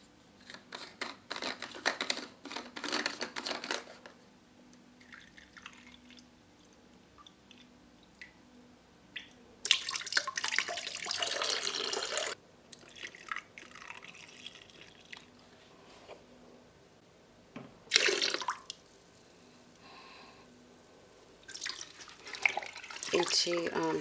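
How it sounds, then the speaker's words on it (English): Tap water splashing into a bucket for rinsing and refilling, loud gushing bursts between quieter drips and sloshing, with a voice talking intermittently in between. "I'm going to rinse the bucket and get some more water to do the floorboards"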